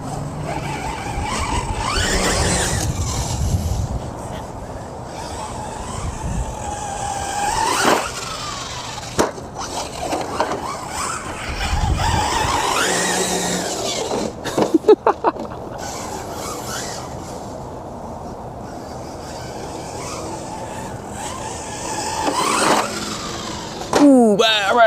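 A Hobao Hyper SC 2.0 short-course RC truck with a lower kV motor, aluminum chassis, runs on a 2S battery over concrete: a whining motor rising and falling, with scrapes and rattles, as someone talks throughout.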